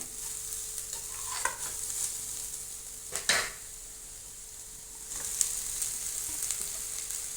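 Sliced snake gourd sizzling steadily in hot oil in a pan, a continuous close frying hiss with a couple of brief stirring clatters partway through, no talking.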